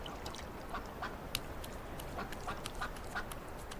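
Ducks on the Bonfol ponds, a nature reserve in Switzerland, in cold winter, quacking in a scattered run of short calls at moderate distance over a soft outdoor background.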